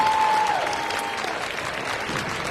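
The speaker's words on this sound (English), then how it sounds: "Let us all give them a hand of applause." An audience at a high school senior assembly gives steady, full applause for graduating seniors, with a brief tone at the start and clapping that holds even and loud throughout.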